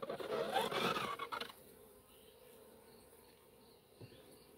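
Honeybees working comb in a 3D printed hive give a dense, close buzzing hum that is loud for the first second and a half, then drops to a faint background drone with a brief scrape near the end.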